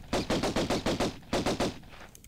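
Gunfire in the video game Tomb Raider 1 rings out as a rapid string of about ten loud, close shots with a brief gap partway through, sounding alone without talk.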